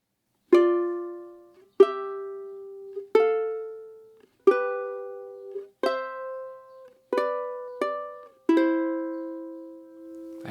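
Solo ukulele slowly plays the opening two measures of the Hawaiian waltz 'Imi Au Ia 'Oe (King's Serenade): about eight clean plucked notes and chords, each ringing out and decaying, close and quiet.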